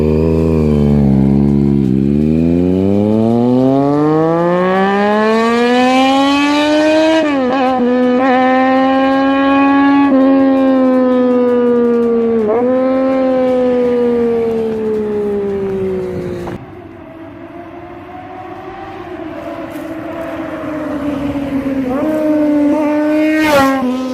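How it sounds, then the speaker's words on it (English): Triumph Daytona 675R superbike with an inline three-cylinder engine, its exhaust wailing loudly through repeated rising revs and gear shifts, then settling to a lower idle-like drone before revving again, with no talking. "This is one of the best sounding inline 3-cylinder engines in the world."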